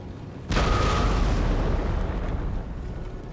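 A single loud cannon blast in Empire: Total War, a deep booming report that starts abruptly and then rumbles on, fading slowly over a few seconds with no talk.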